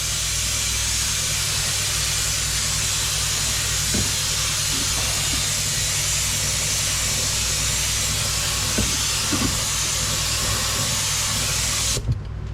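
Steady, loud spray hiss of paint lightly applied to the interior of a 1957 Volkswagen oval window Bug in a garage, continuous with a low hum beneath and a few faint knocks.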